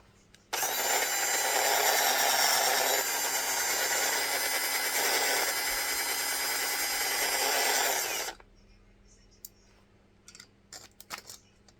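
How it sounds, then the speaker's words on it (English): A loud, steady power drill whines continuously for several seconds drilling through a back plate, then cuts off abruptly, leaving faint clicks and light handling noises. "We're just gonna keep drilling at it until we get it to come out"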